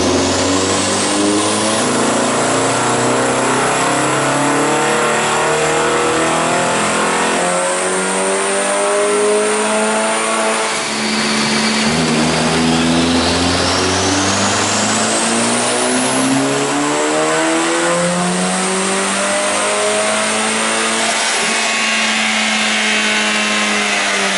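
A Ford EcoBoost Mustang with an FFtec turbo upgrade, methanol injection and Cobb tuning idles and revs steadily, the engine note rising and falling through several throttle blips with a turbo whistle, loud and close throughout.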